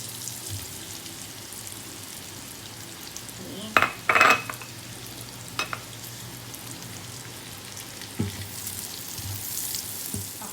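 Ham goes into a pan of caramelized onion and bacon for spaghetti carbonara, giving a quiet steady sizzle with a few clanks of a utensil stirring against the pan and no talking.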